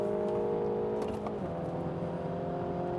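A MINI Challenge race car with its traction control off and a 6-speed manual gearbox drives hard on a track, its engine holding a steady, loud drone from inside the cabin with a brief pitch dip mid-way, with no talking.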